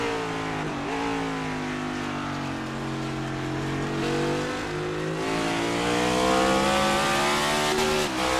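A race car engine in a racing video game at Watkins Glen International, droning steadily at high revs with pitch slowly shifting through gears as it passes, continuous and fairly loud throughout.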